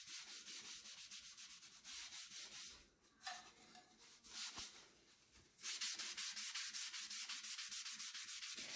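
Paper towel buffing mica powder over a tumbler, a steady dry scratchy rubbing in long repeated strokes, close and fairly loud, pausing briefly midway before resuming.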